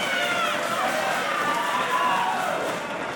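A sold-out, capacity wrestling crowd at the Gold Mine roars and cheers in a steady, dense wash of noise with whistles rising through it, loud and continuous throughout.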